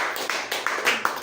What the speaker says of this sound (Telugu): సూపర్. Clap clap.